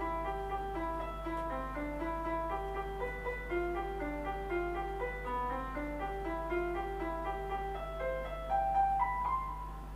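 A counterpoint melody line built on a Tokyo train station jingle plays as steady, stepwise tones in two interweaving voices over a constant low hum, moderately loud and continuous throughout.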